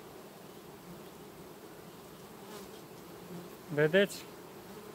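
Honeybees at an opened beehive in August: a low background hum, then a brief, louder buzz as a bee passes close by. A voice speaks once, briefly.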